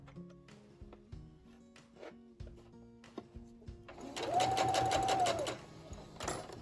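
A sewing machine runs a short burst of rapid stitching on a pleated dog dress skirt, preceded by scattered clicks and handling of fabric, then stops with a few light taps at close range.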